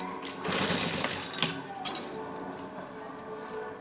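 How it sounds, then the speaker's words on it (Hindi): A sewing machine runs in a fast steady whir while stitching elastic onto a shalwar, the needle chattering for a few seconds up close with a couple of sharp ticks and no talk. "एक साइड पे सिलाई लगाई है"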